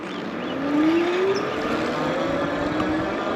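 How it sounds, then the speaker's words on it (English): A Kingbull Hunter 2.0 electric e-MTB pulls away on throttle alone with unlimited speed, giving a rising motor whine that climbs in pitch over a steady rush of wind and tire noise, close and continuous. "We're gonna go right now and see how fast on throttle only."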